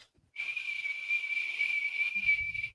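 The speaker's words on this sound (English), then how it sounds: "I'm hearing a loud, like right now, a whistle or a whine or a whatever just going on." A constant, loud, steady whistle or high whine sets in abruptly and holds unbroken for over two seconds, with a faint low rumble entering near the end.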